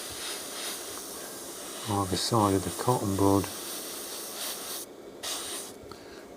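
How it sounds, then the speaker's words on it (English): An airbrush hisses steadily with paint throughout, a continuous close spray behind someone speaking briefly in the middle, with the hiss cutting in and out near the end. "Just need a dot, so I'm just going to spray"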